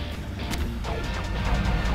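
A crashing blast in Garry's Mod, a short loud smashing burst followed by rumbling debris noise and continued vehicle-like background sound.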